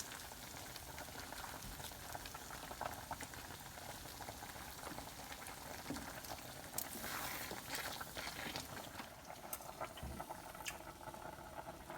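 Chorizo and pea risotto simmers in a pan after broth goes in, giving a steady, dense bubbling and sizzling hiss that runs evenly throughout with a few louder pops, close by and without talk.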